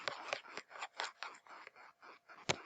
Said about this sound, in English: Now I'm going to erase this real fast.